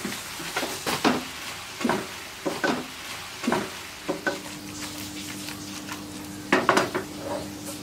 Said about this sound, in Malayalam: ചിക്കൻ ആഡ് ചെയ്തതിന് ശേഷം നന്നായിട്ട് മിക്സ് ചെയ്തെടുക്കാം.